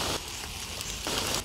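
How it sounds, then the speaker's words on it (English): Steady rain falling through woodland, a continuous broadband hiss that swells slightly louder at the start and again near the end, with no voices. "the sound of rain sped up as I walked"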